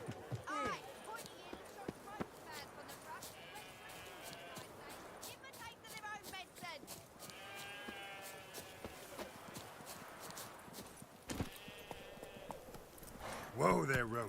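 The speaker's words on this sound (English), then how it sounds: "Whoa there, Roach." In The Witcher video game, a horse's hooves clip-clop in a steady rhythm under game dialogue and background sound, quiet and continuous, with some speech.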